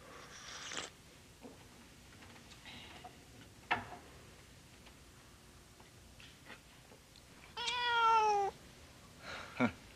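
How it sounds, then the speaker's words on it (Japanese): A cat gives one clear, drawn-out meow near the end, with a few faint softer sounds and ticking earlier in a quiet room. "猫を飼ってるのか。"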